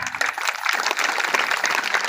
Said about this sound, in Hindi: ताली तो बजा दिए हो